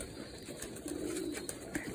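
Young pigeons coo softly in the background, a low murmuring call amid faint ambient noise and scattered clicks.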